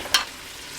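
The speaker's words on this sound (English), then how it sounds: "we're going to stir this stuff around" Chopped garlic stirred in a hot pan, one quick scraping sizzle followed by a soft, steady frying hiss, close and fairly quiet.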